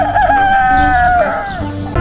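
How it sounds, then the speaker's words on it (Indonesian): A village chicken crowing close and loud, one long drawn-out call that holds steady and then falls away, followed by a brief noise at the end. "ada seekor ayam kampung"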